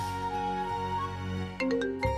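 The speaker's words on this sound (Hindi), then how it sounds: "मेरे पार्टनर का फोन आ रहा है" A phone ringtone for an incoming call in a Hindi TV serial scene: a sustained melodic tone pattern with a bright chiming burst near the end, fairly loud and with no one talking over it.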